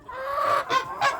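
Several geese honk loudly up close while pecking at pieces of apple, a long run of honking followed by two shorter calls with brief gaps.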